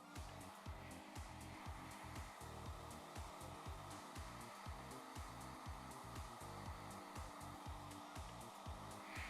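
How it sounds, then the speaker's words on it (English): A hair dryer drying a Golden Retriever's coat blows with a steady, loud whoosh that runs the whole time, broken up by rhythmic low thumps as the airflow shifts. "I'm holding the dryer and drying it in the direction that I want it to go"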